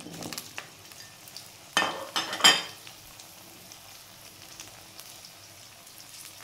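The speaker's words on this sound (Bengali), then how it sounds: "করলাটা দিয়ে আমি একটু এবার আগে ভেজে নেব" Bitter gourd pieces dropped into hot oil in a pan, giving a soft sizzle with a few louder bursts of frying and stirring in the middle, then a quieter crackle that fades.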